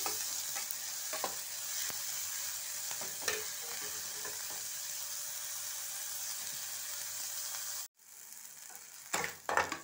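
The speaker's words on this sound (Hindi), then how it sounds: "प्याज को थोड़ा ब्राउन करना है" Steady crackling sizzle of onions frying in a pan, continuous and close, with a brief pause and a few stirring clatters near the end.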